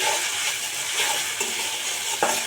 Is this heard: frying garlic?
yes